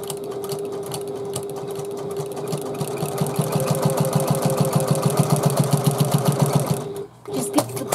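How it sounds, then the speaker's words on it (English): A sewing machine runs back stitching on the corners of a fabric handbag, whirring steadily at first and then settling into a fast, even needle rhythm before stopping briefly near the end and restarting. "Always back stitch on the corners."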